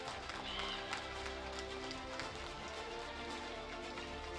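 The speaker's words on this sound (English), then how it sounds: "Please clap hands." A youth gathering audience claps for the Rector Major, a continuous, fairly faint spread of many hands applauding at a distance, with voices murmuring underneath.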